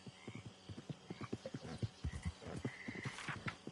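A horse in the video game Red Dead Online clip-clops at a steady walking rhythm, with soft hoofbeats close by and a brief whinny-like call near the end, no talk.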